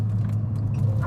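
A car on ECS Tuning 32-way adjustable coilovers driving along, a steady low engine and road rumble from inside the cabin with faint rattles, lasting about a second and with no one talking.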